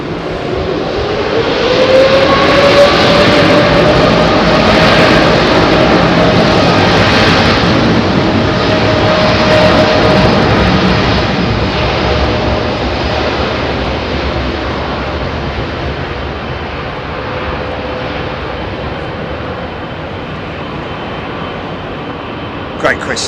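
A Boeing 787 with raked, blended wingtips departs runway 27R at London Heathrow, its loud, steady jet roar spanning the whole stretch and easing slightly toward the end, with people talking over it.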